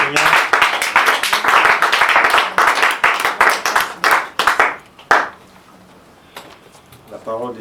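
A church congregation claps loudly and rhythmically to acclaim the Lord, dense hand claps with voices mixed in, then fading to scattered claps and quiet near the end.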